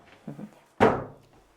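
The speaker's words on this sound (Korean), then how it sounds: "서랍장 빼는 거예요?" A quick soft knock followed by a single solid thunk as a pull-out drawer in a shoe cabinet slides out and stops, close and otherwise quiet.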